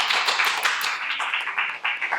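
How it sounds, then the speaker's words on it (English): An audience at a career forum gives a round of applause, a dense run of many hands clapping at a steady level for about two seconds, with no speech over it. "Let's give her a round of applause."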